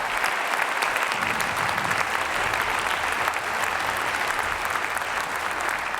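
A concert audience at a Southwest Washington Wind Symphony performance breaks into loud, dense applause that holds steady throughout, many hands clapping at once with no talk over it.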